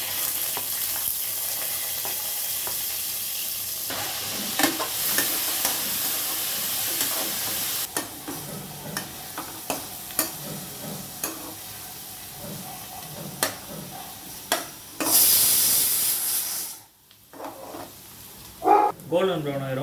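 Food frying in hot oil in a home kitchen pan, a dense continuous sizzle with scattered pops and stirring clatter, while a person talks over it and a dog barks.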